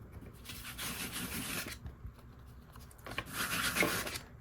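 Foundry wax rubbed gently onto embossed paper by hand gives soft, close dry rubbing strokes in two bursts separated by a quiet gap, faint and without talk.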